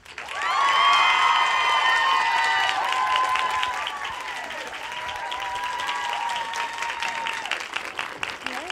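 A large audience applauds and cheers loudly as a fitness personality is welcomed onto a stage at a Cosmopolitan magazine event, with sustained clapping, whistles and shouts over the whole stretch.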